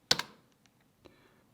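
A single Enter key press on a computer keyboard while generating an SSH key, heard as a sharp near click with a quick double tap, followed by a fainter click about a second later, against a quiet background.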